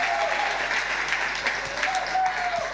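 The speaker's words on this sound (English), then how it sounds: "Can we give them another round of applause?" An audience at a Nerd Nite talk claps steadily and densely throughout, sustained applause filling the room with a brief faint tone sounding over it.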